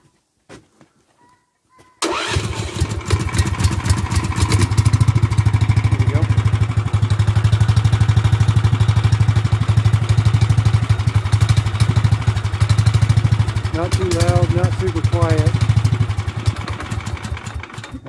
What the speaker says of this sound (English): you probably want to hear the exhaust